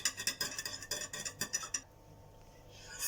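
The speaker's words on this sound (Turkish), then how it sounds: "Önce bu sıvı malzemelerimizi biraz karıştırıyoruz." A spoon stirs milk and oil together in a bowl for crepe batter, making a quick, steady run of light clinks against the bowl that stops abruptly, followed by near silence.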